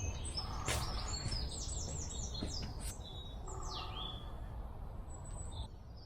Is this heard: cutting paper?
no